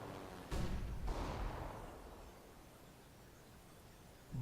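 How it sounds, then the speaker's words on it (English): A flashbang grenade goes off in a video game with a sudden loud bang, followed by a second burst and a long fading rumble. "Deploying flashbang."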